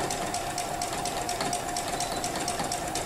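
A domestic sewing machine runs continuously during free motion quilting, a close, steady mechanical whir with rapid needle clatter throughout, no pauses.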